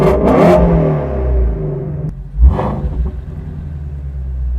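A Ford Mustang Shelby GT350R on a race circuit, its engine revving hard from the cabin: a loud deep rumble that swells and falls, with a sharp blip midway, no talk over it.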